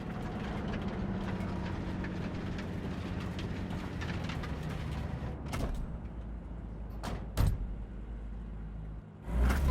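A train in the video game Cyberpunk 2077 rumbles steadily and low, with a few sharp metallic clanks and thuds near the end and no talking.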